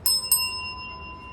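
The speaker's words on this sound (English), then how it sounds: "I'm feeling like I want to ring the bell for you." A small bell, rung during a tarot reading, gives two quick bright strikes in close succession, then a clear ringing tone that slowly fades in a quiet room.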